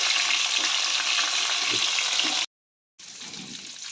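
Food frying in hot oil as the foam settles, a loud, dense, steady sizzle close up that cuts out briefly for a half-second gap before resuming.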